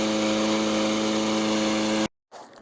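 A Troy Bilt lawn mower engine runs steadily at close range after a carburetor cleaning, a loud, even drone for about two seconds before cutting off abruptly, followed by a brief quieter rumble.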